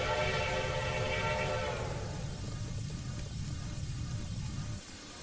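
A steam locomotive in Train Simulator on the Rio Grande Southern vents a steady hiss from its open cylinder cocks over a low rumbling idle, then the sound drops as the brakes release.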